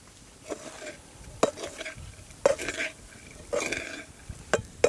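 Cumin-seasoned rice frying in a hot pan, stirred so a spoon scrapes and clinks against the metal in irregular bursts over a soft, steady sizzle, close by.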